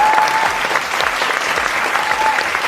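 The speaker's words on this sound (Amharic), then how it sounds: "ግን ዛሬ ያሳየችው ፐርፎርማንስ በጣም የሚገርም ነበርና ሞቅ ያለ ጭብጨባ ይገባታል።" Warm applause rises for a contestant at a cooking competition final, a dense, loud burst of many hands clapping steadily from start to finish.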